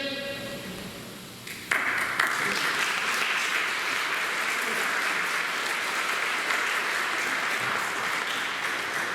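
Congregation applauding inside a church during a Catholic mass, a steady full burst of clapping that kicks in suddenly after a quieter start and continues evenly, moderately loud, without speech.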